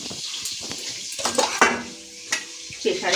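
Eggplant frying in oil, a continuous sizzle under repeated clinks and scrapes of a utensil against the pan.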